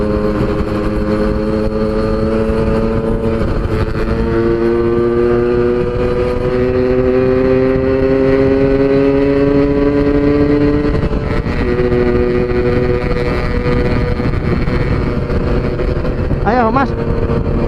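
Two small two-stroke motorcycles, a Suzuki RC 100 and a Yamaha FIZ R, rev hard while racing, a loud steady engine drone with rising pitch sweeps and a shift near the end, with voices shouting faintly underneath.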